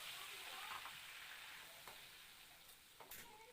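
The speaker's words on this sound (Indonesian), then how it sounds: "Selanjutnya kita mau goreng cabai." Chilies fry in a hot pan with oil, giving a steady bright sizzle and a few sharp crackles and spatters toward the end, fairly quiet and with no talk.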